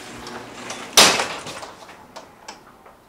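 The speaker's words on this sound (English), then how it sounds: "Well, I think I just broke my garage door." A garage door opened and breaking, one sudden loud clattering bang followed by a few fainter knocks and rattles, close by with no talk.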